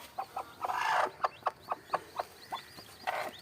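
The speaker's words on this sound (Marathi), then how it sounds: "या बुट्टीमध्ये ती रावणीची कोंबडी होती मित्रांनो" A hen in a basket, her eggs hatched after 21 days with newly emerged chicks beside her, gives a steady series of soft, close clucks in an even rhythm, with a brief rustle in between.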